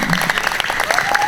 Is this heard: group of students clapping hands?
yes